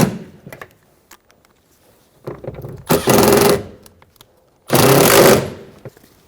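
Power screwdriver driving Phillips head screws into the interior door panel of a 2005-2015 Toyota Tacoma, two loud, close bursts of motor whine separated by clicks and handling noises.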